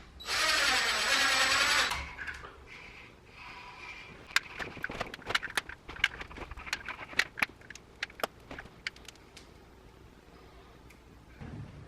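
A power drill drives trim screws up into a ceiling panel: a loud steady whir for about two seconds, then a long run of sharp clicks and taps close by, fading to quiet near the end.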